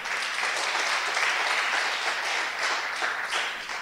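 A church congregation gives steady, full applause, a dense wash of many hands clapping at moderate volume without pause, with no talk over it.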